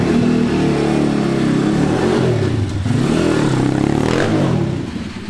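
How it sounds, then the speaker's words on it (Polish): An MRF 140 pit bike's small single-cylinder engine revs loud and close, rising and falling in pitch through a brief dip in the middle before winding back up, with no talking. "Jeździ, odpala. MRF-a 140."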